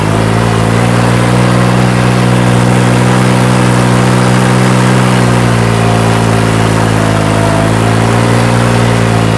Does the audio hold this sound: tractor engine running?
yes